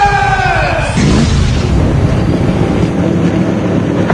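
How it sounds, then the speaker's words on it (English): Race car engines at an ARCA Series oval race start and roar together in a loud, rumbling wall of sound, wind-buffeted and continuous, after a brief voice at the start. "Gentlemen, start your engines!"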